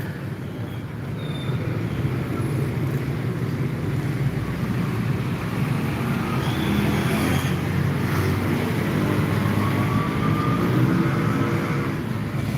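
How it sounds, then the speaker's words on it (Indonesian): A truck loaded with sand and red soil rolls past near a road junction in a village in Palembang, a steady, broad rumble of engine and tires that swells slightly midway and stays loud and continuous throughout. "sambil lihat truk lewat bawa pasir dan tanah merah"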